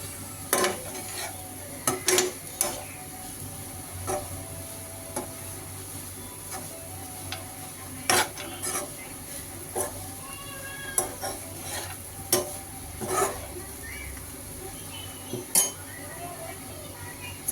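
Chapati chivda stir-fried in a pan over a high flame: repeated close scraping and clanking of a spatula against the pan in an irregular rhythm over a faint continuous sizzle, no voices.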